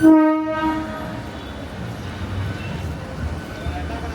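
A train's horn sounds briefly at the start, then the low rumble of a train bound for Chennai Central rolling through an Indian railway station continues steadily.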